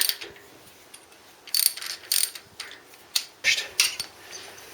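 Hand ratchet with a 16mm long socket loosening spark plugs on a Harley Sportster, giving several short bursts of fast metallic clicking separated by brief pauses, close and clear.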